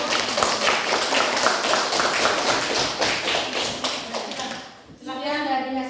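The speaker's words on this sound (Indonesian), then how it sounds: "saya tepuk tangan dulu untuk kelompok" A group of people in a classroom clap hands for a presenting group, a dense run of quick, close claps for about five seconds before stopping, after which a voice is heard.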